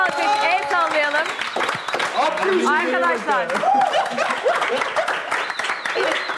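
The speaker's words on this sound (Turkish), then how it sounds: "Bir alkış." Studio audience applause on a Turkish celebrity-and-rookie competition show, a steady clapping wash running the whole time beneath a man's continuous speech.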